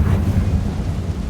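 Confringo blasting spell cast in the Hogwarts Legacy wizarding game, a brief, loud, deep rumbling burst like a muffled explosion, heard alone without talking.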